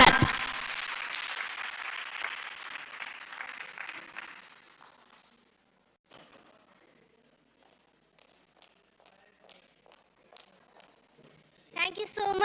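Audience applause at a youth council entrepreneurship event in Odisha, India, a loud burst of clapping from a crowd that fades out after about four seconds, then near silence with scattered small noises before clapping swells again.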